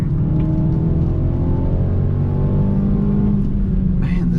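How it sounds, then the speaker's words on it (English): A 2021 Mercedes A35 AMG's turbocharged four-cylinder engine drones steadily and loudly from inside the car, with a rising whine in the upper range near the end. No one speaks over it. "This thing sounds great, healthy, sweet little 4-cylinder."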